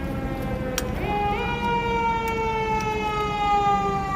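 Fire truck siren wailing in a long rising and falling tone as it passes along a city street at night, moderately distant and steady over low traffic rumble.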